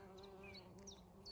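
Bees hum softly across a wildflower meadow in early July, a faint steady drone with occasional passing buzzes from individual insects.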